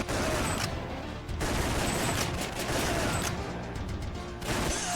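Gunfire from an enemy in the arcade shooter Time Crisis, dense bursts of rapid game shots and impacts crackling loudly and almost continuously, with brief dips between volleys.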